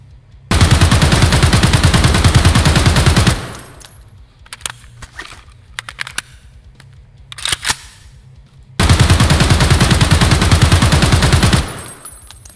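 Full-auto AK-74N rifle fire in the video game Escape From Tarkov; two loud, sustained bursts of rapid shots, each about three seconds long, with quieter clicks and handling sounds between them.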